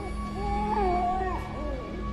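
A cat in the horror game P.T. gives a drawn-out, wavering meow with a few shorter trailing cries, fairly clear over a low ambient drone.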